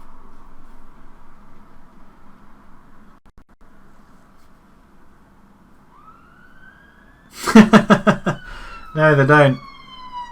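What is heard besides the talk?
ambulance and emergency vehicle sirens outside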